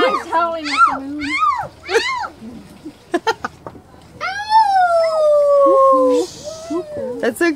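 A dog howls repeatedly with rising and falling wails, ending in one long sustained howl, loud and close.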